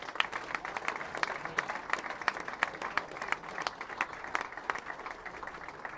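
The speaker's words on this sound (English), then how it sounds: "let's give a big round of applause" Audience applause at junior bowling stepladder finals, a sustained patter of many hands clapping at moderate distance, fairly quiet and steady for several seconds.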